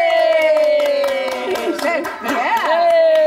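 A small group claps and cheers for a young child during a family mealtime, a short burst of scattered hand claps beneath an adult's lively, sing-song talk.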